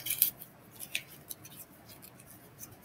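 Scissors handled up close, with small metallic clicks and snips standing out over a quiet background, no one speaking.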